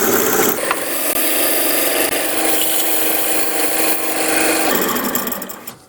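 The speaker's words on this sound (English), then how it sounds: "I'm going to keep going with the sandpaper to get the inside finished" Sandpaper rasps steadily against the inside of a wooden goblet on a lathe, a loud continuous scratchy rubbing with slight swells, fading out at the very end.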